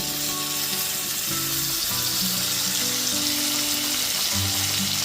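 Ginger, garlic and green chilli paste frying in a pan over medium flame, giving a continuous close, even sizzle with a faint hum running through it, no voices.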